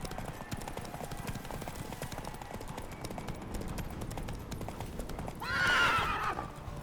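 Roach the horse gallops through The Witcher 3 game world in steady rapid hoofbeats, with a loud neigh near the end over a busy background.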